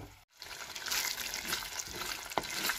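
Tomato chutney bubbles and sizzles in oil in a pan, a continuous crackling fry with stirring scrapes and one sharp knock near the end, close and with no voices.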